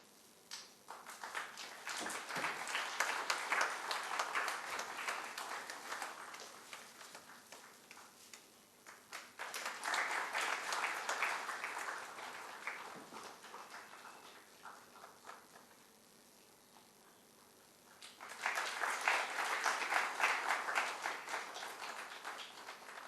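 An audience at a book release event claps in three separate bursts of applause, each lasting several seconds with quieter gaps between them. The clapping is fairly soft and distant.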